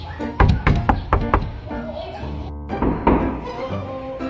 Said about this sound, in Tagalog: May kumakatok na naman.